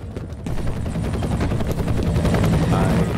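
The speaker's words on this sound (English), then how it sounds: "I hear a helicopter." Helicopter in the video game F.E.A.R., a steady loud rotor and engine roar that swells after a short quiet start and holds throughout, with faint gunfire-like bursts mixed in.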